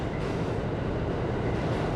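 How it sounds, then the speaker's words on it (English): A train rumbles past in a steady, loud, dense roar with continuous low-frequency rolling noise and no pauses, filling the whole moment with no voices heard. "Maybe that's a train."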